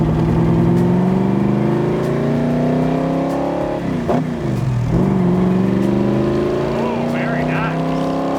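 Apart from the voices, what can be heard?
1965 Backdraft Cobra driving, Tremec 5-speed shifting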